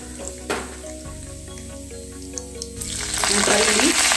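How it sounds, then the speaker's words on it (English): Mustard seeds dropped into hot oil for an onion tomato chutney: a bright crackling sizzle swells from a low hiss into loud, close popping and spattering, with no speech. "Add about 2 small spoons of mustard seeds."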